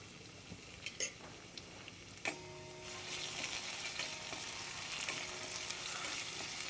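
Green chili paste and asafoetida sautéing in a pan: a few clinks of a utensil against metal at first, then a swelling sizzle as the paste hits the hot oil, punctuated by stirring taps, close and with no voices.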